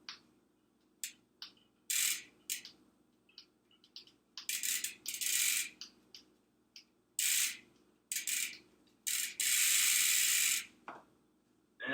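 Oil dripped onto a bicycle chain and bearings as the drivetrain spins, giving bursts of hissing, rattling clicks separated by short pauses, close and fairly loud.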